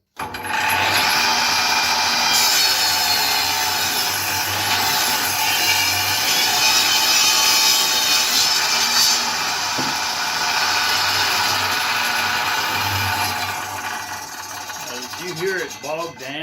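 An underpowered table saw cuts through wood in one long continuous pass, its loud whine steady and then audibly slowing and sagging as the blade bogs down near the end of the cut.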